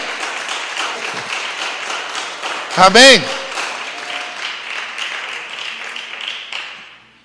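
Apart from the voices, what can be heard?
congregation applause in church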